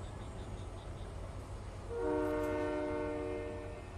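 A train passing at a distance, with faint rumble and clatter before a sustained horn blast sounds for about two seconds midway, fairly quiet overall.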